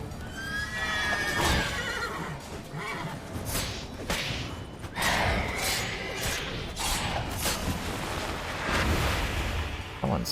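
A horse in the Witcher 3 Blood and Wine game world whinnies loudly and snorts, with clip-clop hooves and bursts of game sound effects throughout, close and continuous.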